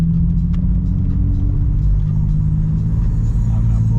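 Infiniti G35 with a VQ engine and ISR blast pipes, heard while driving: a loud, steady, droning exhaust rumble with a low hum, constant throughout with no clear revving.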